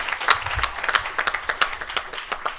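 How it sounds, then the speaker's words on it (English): A small group claps, the individual hand claps distinct and fairly close, forming a light, uneven round of applause. "give them a round of applause"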